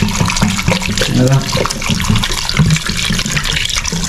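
Water pours steadily into a container on a farm during a saba banana harvest, a continuous close splashing rush, while people talk loosely over it.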